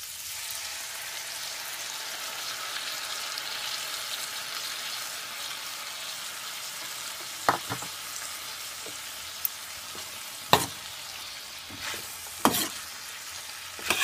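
Beef and broccoli frying in a pan on a medium stovetop with soy sauce and beef gravy, a steady close sizzle throughout with a few sharp pops and stirring clatters in the second half.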